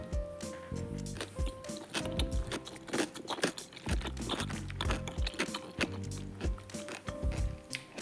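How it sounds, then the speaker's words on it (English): Someone bites and chews crunchy cucumber close up, giving repeated wet crunches in a steady chewing rhythm, with no talking. "I'm gonna have some cucumber."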